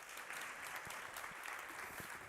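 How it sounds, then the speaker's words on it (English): An audience at an education and skills conference applauds a speaker, a steady, even spell of clapping heard from a distance that holds at the same level throughout the brief clip. "So, a big round of applause for Thomas."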